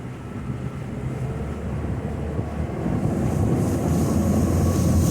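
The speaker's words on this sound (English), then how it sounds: "It just planes out pretty much from the moment you start the thing." A 2019 Tracker Grizzly 2072 CC motorboat's engine roars and builds steadily as it accelerates onto plane, the hull rushing through water, the sound growing louder toward the end amid wind noise.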